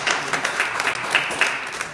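A church congregation applauding during a worship service, steady sustained clapping from many hands filling the room for a couple of seconds.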